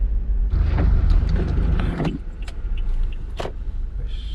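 A car passing by on a road during a Bali road trip, its engine rumble swelling loud and close then fading, followed by a few sharp clicks and quieter ambient noise.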